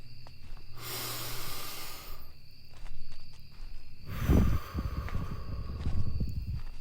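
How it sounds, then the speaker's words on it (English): Slow breath drawn in and let out in cold night air on a path through a graveyard, a long soft hiss of exhaling standing alone with faint insect chirps around it. "He stops and breathes in the cold night's air, then exhales it out slowly."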